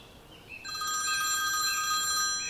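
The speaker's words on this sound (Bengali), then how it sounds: "এমন সময় ফোনটা বেজে উঠতেই ঘরে এসে ফোন ধরলাম।" A telephone bell rings in a Bengali suspense audio story, a steady ring that starts after a short quiet lead-in and continues close and clear to the end with no talk over it.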